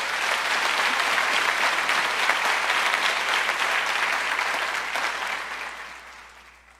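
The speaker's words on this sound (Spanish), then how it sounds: "Si lo crees, dale un fuerte aplauso al Señor" A church congregation gives the Lord a loud, sustained round of applause during a worship service, dense clapping filling the room steadily before tapering off near the end.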